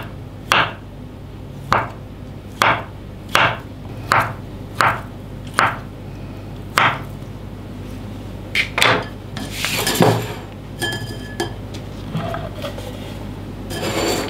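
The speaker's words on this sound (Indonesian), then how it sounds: "Ada 2 buah kentang yang sudah kita rebus. Kita iris-iris." A knife slices through two boiled potatoes on a board, making a steady series of about a dozen crisp, close chops, followed by softer scraping and clattering handling sounds, with no voices.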